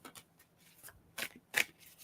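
Tarot cards being shuffled by hand, a quiet run of soft riffling bursts and flicks with two sharper snaps near the end, close and alone.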